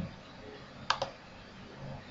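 A computer mouse gives two quick, close clicks in the middle of a short quiet stretch while a SlideRocket slideshow is advanced, over a faint steady hiss with no talking.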